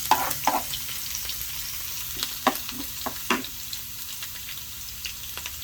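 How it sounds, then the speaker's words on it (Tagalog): Garlic frying in hot oil, a soft, steady sizzle with scattered pops and stirring scrapes, close by and fairly quiet. "lagay natin yung bawang dahil mainit na ang mantika"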